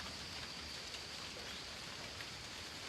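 Rain falls steadily outdoors during a yoga practice, a soft, even hiss of drops pattering on surfaces throughout, with no voices.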